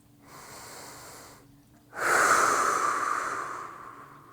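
Two deep breaths during a seated stretching exercise: a softer inhale, then a longer, louder, airy exhale with a slight wheezing edge, close and alone.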